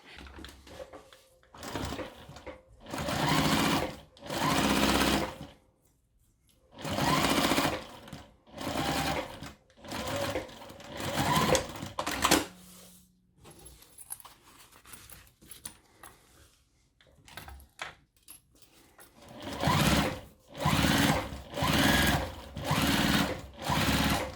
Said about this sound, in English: And then I'm going to just sew on top here.